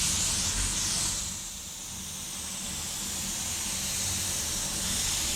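Air spray gun at low pressure laying primer surfacer onto a stripped 1968 Mustang coupe hood, a close, steady hiss that dips briefly then resumes in a continuous spray.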